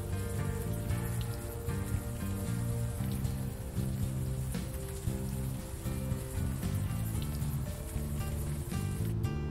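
Steady rain pattering on surfaces in the video game Unavowed, a continuous even wash of drops alone with no voices, close and moderately soft throughout.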